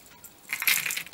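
Small metal coin trim from a thrift haul being handled, giving a soft run of light metallic clinks and jingles that builds in the second half, fairly close and quiet with no talking.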